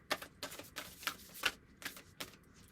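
Tarot cards are shuffled in several quick, crisp riffling bursts, close and fairly quiet, with brief pauses between them.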